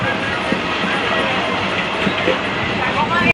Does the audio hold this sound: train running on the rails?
yes